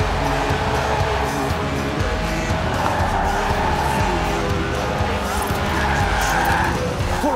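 A light sub-700 kg racing car in Forza Horizon 4, its 190 hp 1.8 litre engine revving toward 8,000 RPM, drifts continuously with loud, sustained tire squeal and a steady high engine wail, close and unbroken throughout.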